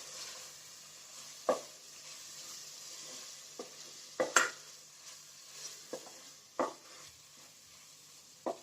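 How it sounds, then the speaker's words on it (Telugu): Ground spices such as cumin powder, biryani masala and amchur frying in oil in a pan, a faint hiss punctuated by several scattered clicks and scrapes of a spoon stirring, quiet and close with no voices. "ఇవన్నీ కూడా ఒక హాఫ్ మినిట్ వరకు ఫ్రై చేసుకుందాం."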